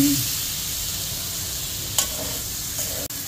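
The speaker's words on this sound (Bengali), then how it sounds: "এখন এটাকে সুন্দর করে ভেজে নেওয়া হবে" Potatoes with spices frying in a pan for an aloo potol curry, a steady close sizzle running throughout with a few brief clinks of a spoon against the pan.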